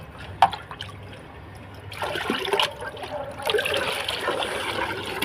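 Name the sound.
rice starch water being mixed into a bucket of water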